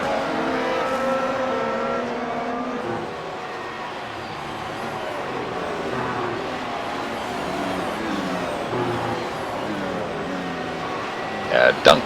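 Formula 1 race cars in the iRacing simulator at Suzuka howl past the finish line out of the final chicane, their high engine notes rising and falling as they pass, under steady commentary.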